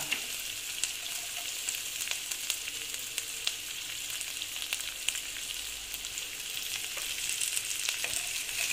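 Onion, then ginger, frying in a pan: a steady, fairly soft hiss of sizzling oil with scattered crackles and occasional light stirring, close and continuous, no one speaking.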